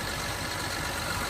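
The diesel engine of a 2021 Caterpillar 336GC excavator idles close by, a steady, loud, broadband rumble with no change in rhythm and no talking.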